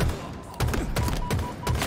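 Several bursts of gunfire from Halo Infinite ranked multiplayer, with loud sharp shots at irregular intervals over a constant background of game noise.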